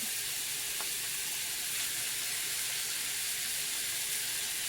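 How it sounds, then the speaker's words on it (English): A pound of ground beef and chopped onion frying in a pan, giving a loud, constant hiss of sizzling fat close up, steady from start to finish with no speech. "Cook the ground beef till it's done"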